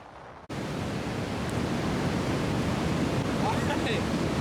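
Strong wind on the Texas coast buffets the microphone with a steady, loud roar of broadband rushing noise that starts abruptly and continues without letup.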